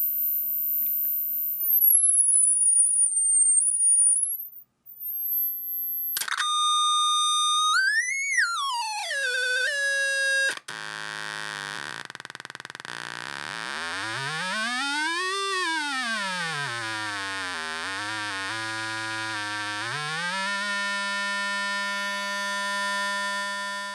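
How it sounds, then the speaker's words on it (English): Sine wave test tone played through a Heathkit AA-18 solid-state amplifier, loud and continuous, sweeping up and down in pitch with rich harmonics, starting as a high steady whine and gliding through lower tones. "we're giving it a sine wave, and we're getting a nice clean sine wave pretty much on the output"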